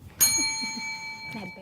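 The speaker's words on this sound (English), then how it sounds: "That bell." A single bright bell ding rings out and lingers, followed by a brief faint sound as it fades.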